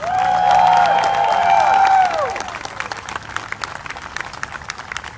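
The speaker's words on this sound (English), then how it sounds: "One more round of applause for Dr. Joe Jorgensen." Campaign rally crowd in Covington, Kentucky applauding Libertarian presidential candidate Jo Jorgensen, a loud burst of clapping for about two seconds that then thins to scattered claps, with a tonal sweep sliding down behind it.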